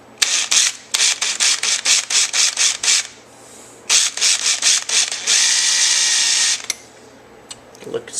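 A drill bit bores through material in repeated short bursts and a longer steady run while a master cylinder is fitted to a 2005 Corvette, the grinding loud and close.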